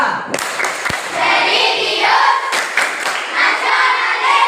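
A group of schoolchildren in a classroom performs the PPK clapping routine, with sharp, rhythmic claps and shouted calls in a loud, busy burst throughout.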